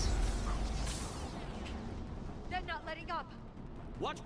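A heavy gunshot boom in the shooter game Mass Effect 3 opens the passage, followed by a long rumbling tail and later fainter game effects, while a player chats over it.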